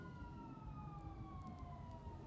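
Several police car sirens wail at a distance in a city, a steady tonal rise and fall carried over a low rumble of background noise, brief and fairly faint.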